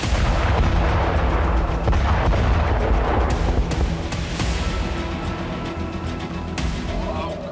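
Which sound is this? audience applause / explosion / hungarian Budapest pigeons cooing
explosion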